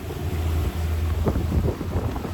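Wide, low cigarette-style speedboats with two engines racing through open water, a loud engine drone mixed with hull slap and spray, buffeted by wind noise on the microphone.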